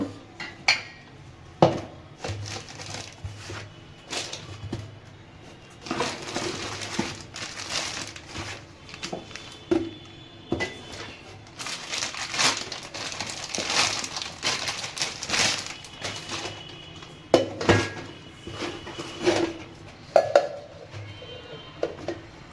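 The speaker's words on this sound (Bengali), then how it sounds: "আর এটা মিডিয়াম সাইজের যে জারটা ছিল তার ঢাকনাটা, এটাও বেশ সুন্দরভাবেই লাগানো গেল।" Plastic and metal clatter as lids are fitted onto the jars of a Bajaj Rex 500W juicer mixer grinder in a kitchen, irregular knocks and clicks close by, with faint birds cooing in the background.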